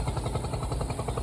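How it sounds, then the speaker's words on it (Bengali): A village trawler boat's engine chugs with a steady, rhythmic mid-pitched throb close by, heard alone. "ট্রলারটা"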